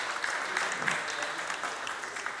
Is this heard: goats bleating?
no